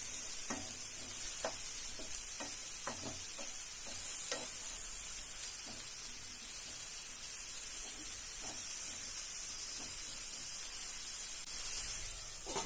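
Bitter gourd with salt cooks in a covered pan. A faint, steady hiss of frying runs throughout, broken by scattered soft taps and clicks, with no talking.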